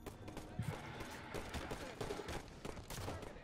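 Gunfire in Halo 5, a quiet, busy stretch of rapid shots and bursts running continuously under players talking.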